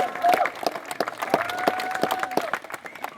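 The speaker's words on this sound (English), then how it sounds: "Let's have a big round of applause for Dick Fosbury." An audience at a high jump camp applauds for Olympic champion Dick Fosbury, scattered clapping under a faint background tone, fairly close and moderate in volume.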